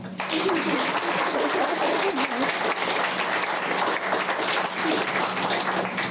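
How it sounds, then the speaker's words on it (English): Sustained applause from an audience at a council meeting thanking event sponsors, a dense, steady round of clapping that fills the room for several seconds without letting up. "Rounds of applause"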